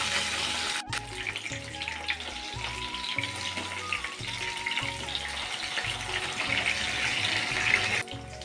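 Pieces of rohu fish fry in hot oil in a wok, a steady hiss and crackle of sizzling held at moderate level, with a soft music bed underneath and no talking.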